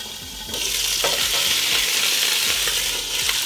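A turkey heart sizzles loudly in a hot pan, the frying rising sharply after a quieter start and holding strong, with repeated stirring scrapes throughout.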